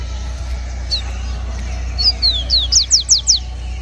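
A songbird, a coleiro or papa-capim, gives a short phrase of high, bright chirps that quicken into a rapid run of rising whistled notes. A steady low hum sits underneath.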